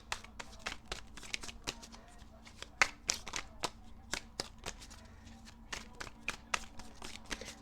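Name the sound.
tarot cards being shuffled and drawn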